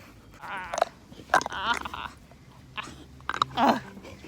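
Bursts of hard crunching and gnawing, close up and irregular, as a dog bites down on a hard treat.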